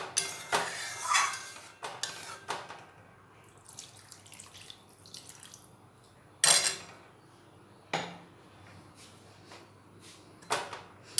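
Fish curry with potatoes being stirred in a cooking pot: scattered metallic scrapes and clanks of a spoon against the vessel, with quiet gaps between sharper knocks.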